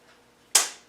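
A single sharp metallic click or snap as a bolt is tightened to lock the shaft of a Land Rover Tdi VE injector pump, close and brief after near silence.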